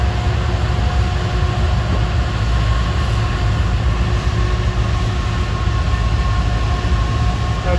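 A steady, loud diesel rumble with a constant low drone and faint tonal whine from a B23-7 locomotive, a former Southern Railway engine, idling close by in a rail yard.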